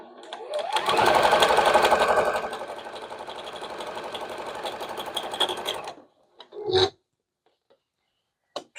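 Sewing machine stitching quilt block pieces with a quarter-inch seam, a steady close whirring run for about five seconds that then stops, followed by a couple of brief handling clicks.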